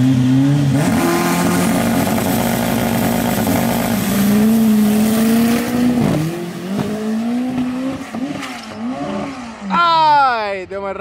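A rare Volkswagen Beetle accelerates hard at a drag race. The loud, close engine climbs in pitch, drops at each gear shift and screams high near the end, while voices talk over it.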